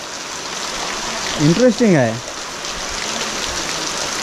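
Steady rain falls in a forest near a Konkan village by a stream, a constant close hiss of drops, while a person speaks briefly over it midway.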